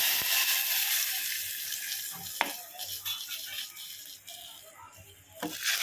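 A ground mixture of pepper, cumin and tomato with turmeric and salt is poured into a pan for pepper rasam. Liquid splashes and trickles alongside light clinks and sizzling, fairly close.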